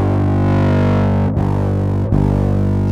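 Electric guitar run through a Pro Co SOLO distortion pedal, a thick, heavily sustained low chord droning steadily and loudly, cut twice by brief dropouts before ringing on.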